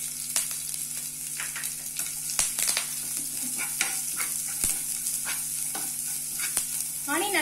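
Mustard seeds, dried red chillies and curry leaves sizzle in hot oil for Navaratri sundal, a dense, steady crackle and popping hiss up close, with scattered sharp spits and no voices.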